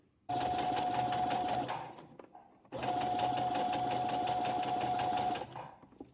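A sewing machine stitches a zipper onto a dress in two steady, close-up runs of whirring mechanical stitching, separated by a short pause, with no talking.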